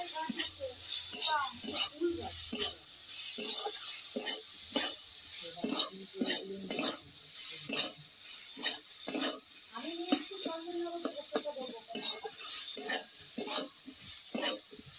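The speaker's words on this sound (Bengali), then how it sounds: "দিয়ে আমি আমলকিটা একটু ভাজা ভাজা করে নেব।" Amla (Indian gooseberry) with turmeric and salt fries in a pan, a steady sizzle and hiss with repeated scraping stir strokes, while someone talks over it throughout.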